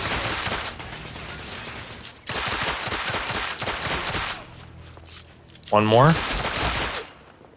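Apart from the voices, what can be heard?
handgun shots in video game The Order 1886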